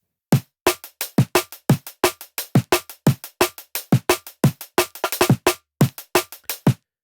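A punchy electronic drum loop with sharp, evenly spaced hits and deep booming kicks, heavily processed, playing alone with no voices.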